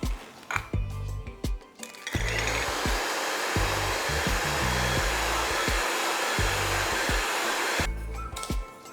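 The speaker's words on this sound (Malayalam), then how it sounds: "അതും പഞ്ചസാരയും കൂടി നല്ലവണ്ണം നമുക്ക് സ്മൂത്തായിട്ട് വിസ്ക് ചെയ്തെടുക്കാം." Three eggs being whisked with sugar for a carrot cake batter using a loud electric mixer, a steady whirring drone that runs for several seconds, starting and stopping with clinks of the beaters against the bowl.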